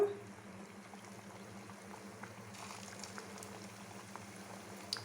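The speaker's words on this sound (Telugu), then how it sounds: "మనం సిమ్లో పెట్టుకొని ఫ్రై చేసుకోవాలి బాదుషాల్ని" Badushas made with wheat flour frying gently in oil in a kadai on low flame, a faint, even bubbling hiss with occasional tiny pops.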